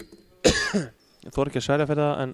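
A sharp cough or throat clearing bursts close into a microphone, followed by someone speaking in Icelandic, during commentary on an under-16 handball cup match between Fjölnir and ÍBV.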